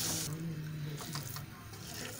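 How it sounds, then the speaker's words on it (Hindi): Jaggery water poured into a ladoo mixture in a home kitchen, a steady close wash of splashing liquid noise running throughout at moderate loudness. "अब हम इसमें डालेंगे गुड़ का पानी जो हमने बना के रखा हुआ था।"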